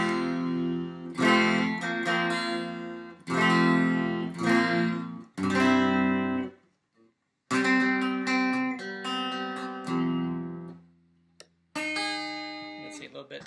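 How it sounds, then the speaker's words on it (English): A Chinese-made electric guitar plays with a clean tone in short bursts of strummed chords and ringing notes, separated by brief pauses of near silence. "here's what it sounds like clean."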